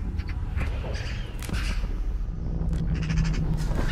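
Magpies call in the wild Iberian countryside with harsh, rasping chatter in several short bursts over a rustling outdoor background, fairly close and without speech.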